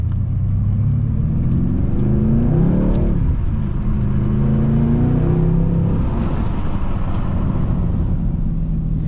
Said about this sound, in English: Already can feel the engine, it just wants to go.